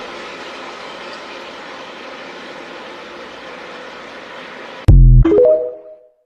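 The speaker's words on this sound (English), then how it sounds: "The grinders can be raised and lowered in action to go over paved crossings" A loud, steady rumbling grind of a rail grinding train passing close on the track, then a sudden burst of harsh scraping tones before the sound fades out.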